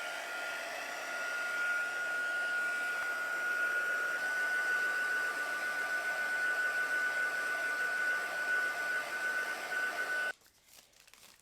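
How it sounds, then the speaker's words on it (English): A handheld heat tool blows steadily for about ten seconds, drying tissue paper laid on a card background, a loud constant whirring hiss with a faint whine, then clicks off abruptly into near silence. "you can bring in your heat tool and go ahead and dry it"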